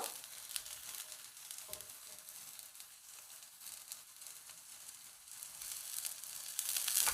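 A Korean potato pancake with cheese fries in a pan, giving a soft, steady sizzle with light crackles and pops throughout, faint and close, with no voices.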